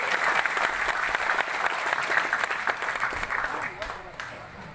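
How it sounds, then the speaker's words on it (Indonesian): A crowd applauds steadily at a community reunion gathering for a village-head candidate's special team, dense clapping sustained throughout and tapering slightly near the end, with faint voices mixed in. "Beri tepuk tangan buat dulur Messi."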